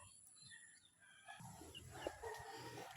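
Pet chickens clucking faintly in the background outdoors, with soft scattered calls and some ambient noise, no talking.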